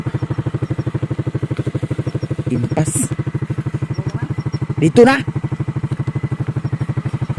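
A motorcycle engine idles with a steady, rapid chugging throughout, close by, while people briefly talk over it.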